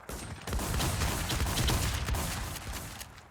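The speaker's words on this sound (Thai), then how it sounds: "ใครยิงกูแรงพี่" Rapid gunfire in an online shooter game, a dense sustained burst of shots lasting a few seconds at steady loudness with no talk over it.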